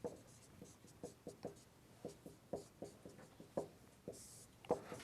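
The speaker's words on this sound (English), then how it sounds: "Let me write it again." Chalk tapping and scraping on a board during a calculus lecture, a steady run of short sharp strokes and taps at moderate level, with no talk over it.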